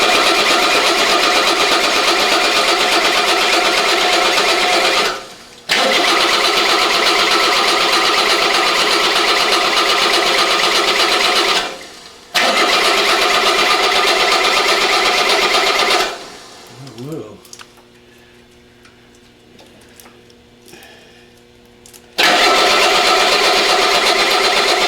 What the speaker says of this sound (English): Just turn this engine over until we can get some fuel out of each one of those.